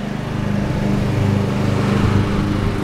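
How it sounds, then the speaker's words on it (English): A riding lawn mower engine running steadily while mowing, a close, loud, low rumbling drone with a slight rise in the middle. "this is what mowing the lawn is."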